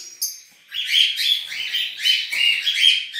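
Budgerigars, an opaline male and a lacewing female, chirping nearby in a quick run of bright warbling chirps, close and fairly loud with no talk.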